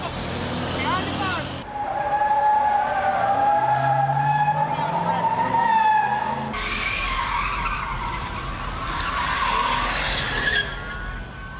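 Cars do donuts and race at a crowded Detroit street party: sustained tire squeal and skidding over roaring engines, loud and continuous, with a sudden shift as another car passes.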